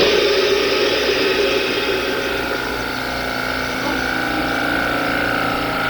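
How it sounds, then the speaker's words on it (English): A dental office air compressor runs with a loud, steady mechanical whir and hum that holds at an even level, with a faint whine above the drone. "Okay, so that is the air compressor."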